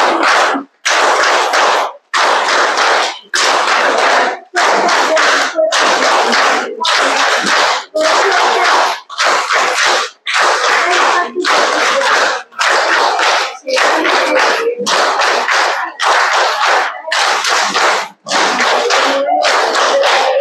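A group claps hands together in a steady rhythm, loud and close, each burst of claps separated by short regular pauses, with no talking over it.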